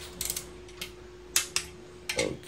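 A torque wrench clicks while main bearing cap bolts are torqued to 49 ft-lb on a Honda B16B stroker engine, giving a few sharp, close mechanical clicks spaced apart over a faint hum.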